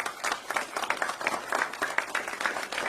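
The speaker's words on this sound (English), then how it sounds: "Let's give that brother a round of applause." Lecture audience clapping in a round of applause, a fairly faint but steady patter of many hands with irregular bursts, heard alone without talk.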